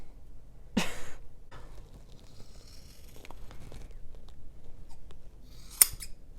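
A single sharp snip of scissors cutting through thick macrame cord in one squeeze, with a second crisp cut near the end against a quiet room.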